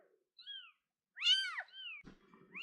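Mother cat meowing just after giving birth, several drawn-out rising and falling meows close by in a quiet room, followed by a brief soft rustle.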